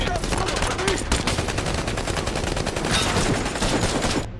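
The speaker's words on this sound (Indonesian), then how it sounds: "dalam penyergapan tersebut, satu anggota SWAT tewas tertembak temannya sendiri, sementara Kawa terluka karena Walid salah m" Dense, continuous gunfire from an ambush at a roadblock in an Iraq-set SWAT action film, rapid overlapping shots and bursts filling the whole stretch at a steady loud level with no pauses.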